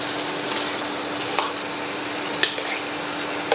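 Marinated soya chunks are stirred into a tomato masala in a pan, with a steady sizzle and a few sharp clinks of a spoon against the pan.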